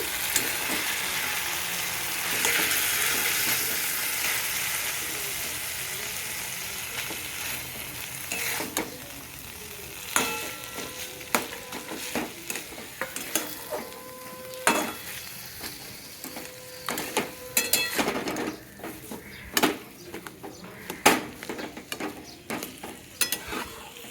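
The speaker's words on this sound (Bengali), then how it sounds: "আঁচটা বাড়িয়ে দিলাম। আলু মাখাটা দিয়ে দিচ্ছি।" Mashed potato going into a hot pan on raised heat for dosa filling, frying with a steady sizzle and repeated sharp scraping and stirring knocks from a spatula, fairly close and with no talk.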